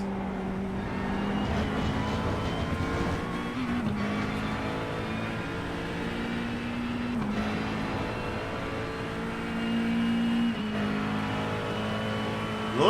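A GT3 race car's dual-turbo engine in a racing video game at Imola drones steadily and loudly throughout, rising in pitch and dropping at repeated upshifts every few seconds, with no talking.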